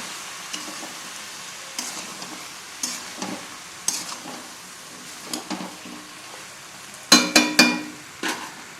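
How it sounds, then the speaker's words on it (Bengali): Ginger paste stirred in a frying pan while cooking Bengali shukto: scattered scraping and clacking strokes of a spatula against the pan over a low, steady sizzle, with a quick cluster of sharper knocks near the end, no voices. "দিয়ে দেবো আদা বাটা, এবার একটু নাড়িয়ে চাড়িয়ে দেবো"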